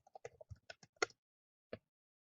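Close, crisp computer keyboard typing: a quick run of about a dozen keystrokes in an uneven rhythm, a short pause, then a single final key tap, with no talking.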